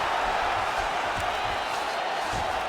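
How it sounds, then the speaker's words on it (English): A UFC arena crowd roars steadily throughout the Zhang Weili vs Rose Namajunas fight, a dense, loud wash of cheering with no breaks. "Crowd goes crazy as she reverses the position."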